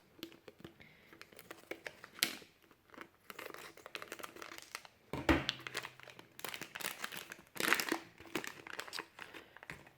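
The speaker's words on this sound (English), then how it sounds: "If I had scissors, I could open this." Plastic packaging holding an Xbox replacement laser crinkles and crunches up close as it is cut open with scissors and pulled apart, with irregular bursts of rustling and tearing throughout.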